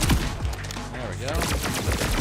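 Sustained gunfire volley in the Borderlands 4 video game, rapid overlapping shots and bursts filling the clip at close range with a brief voice underneath.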